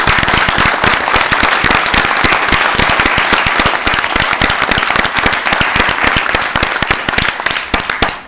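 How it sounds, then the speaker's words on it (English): Loud, sustained applause from an audience at a village board of trustees meeting in Arlington Heights, Illinois, dense clapping filling the whole stretch without a break and tapering slightly at the end. "I think these new young leaders deserve a great round of applause."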